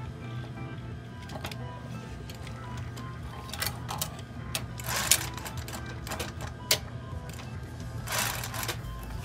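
A sewing machine stitches the waistband seam of an A-line skirt, a quiet steady hum broken by short bursts of needle clatter, heard close and without talk.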